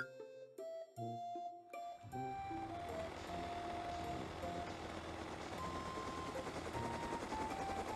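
A helicopter in the survival video game Rust kicks in after a couple of seconds of quieter tones and then holds a loud, steady rotor and engine drone to the end, with no talking.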